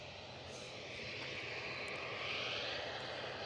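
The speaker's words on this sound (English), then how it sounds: "I've got the EasyJet on its way down the taxiway" An EasyJet Airbus A320 taxiing at Edinburgh Airport gives off a soft, steady jet rumble and hiss that rises slightly over a few seconds, faint and distant, with no voices.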